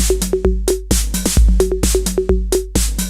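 Pure Acid drum machine app on an iPad playing a programmed pattern with accented hits and a flam, punchy kicks and snappy hits in a steady groove, loud and unaccompanied.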